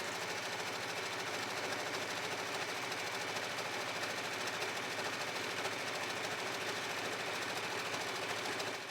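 A sewing machine stitches a short-length zigzag in a steady, fast, even whir with a dense mechanical rattle, close and continuous throughout.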